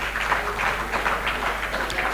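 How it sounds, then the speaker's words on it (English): Audience applause for a panel of speakers at a student community-safety discussion, a steady wash of clapping from a crowd lasting a couple of seconds at moderate level, with no clear voices over it. "they deserve another round of applause"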